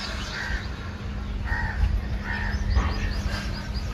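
Crows perched on overhead wires give repeated harsh caws, several calls in loose succession over a steady outdoor background hum.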